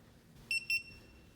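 A Viper car alarm remote gives two short, high electronic beeps in quick succession while trying to unlock a Nissan 350z or 370z, clear against a quiet background.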